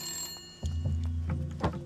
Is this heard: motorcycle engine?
no